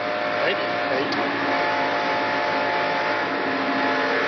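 A 1991 NASCAR Winston Cup stock car, the number 6, eases off the throttle in a turn during the Gatorade Twin 125s: a loud, steady engine roar with race commentary talking over it.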